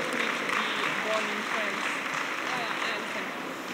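An audience in Lyon applauds to welcome rider Julien Vincent Ancel, with steady, moderately loud clapping and a voice talking faintly underneath.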